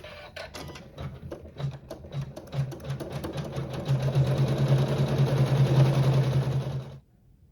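An embroidery sewing machine stitches decorative detail on a quilt block, a rapid mechanical whirr and clatter that builds to a steady fast run before stopping abruptly, close and with no talk.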